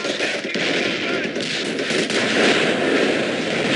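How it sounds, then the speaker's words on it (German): Heavy gunfire in the World War II strategy game Company of Heroes: a continuous, loud roar of overlapping machine-gun bursts and shots, with no gaps across the whole stretch. "Stehen unter schwerem Beschuss."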